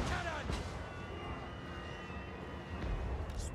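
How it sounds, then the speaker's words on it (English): A great cannon fires on a Total War: Warhammer 2 battlefield amid a dense, continuous roar of battle noise, with booming reports blending into the steady din. "Great cannon!"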